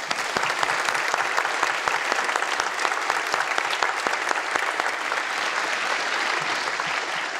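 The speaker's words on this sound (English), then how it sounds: "Let's give them a round of applause." Sustained audience applause at a College of DuPage presidential investiture ceremony, dense and steady clapping from a large crowd filling the whole stretch without a break.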